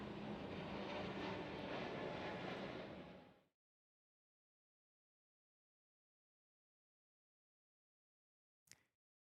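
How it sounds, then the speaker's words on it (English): Distant airliner engines roaring near Memphis International Airport, about two miles off, as a steady broadband rumble that fades out after a few seconds, followed by silence and a short click. "I can hear the roar of the engines 2 miles away."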